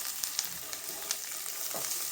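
Ginger, onion, garlic and chili sizzle steadily in a hot pan with a few stirring scrapes, close and continuous without talk.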